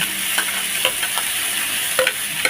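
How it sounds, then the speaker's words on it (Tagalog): Garlic, onion and tomato sauté in a pan for a bean sprout vegetable dish, a close, dense sizzle punctuated by a few sharp spoon scrapes and stirring clicks, with no talking. "kailangan natin igisa sa bawang, sibuyas, at ang ating kamatis"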